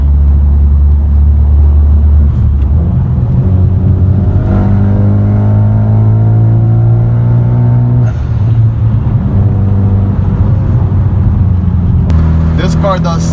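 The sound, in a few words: 2013 Hyundai Genesis Coupe R-spec driving hard through a corner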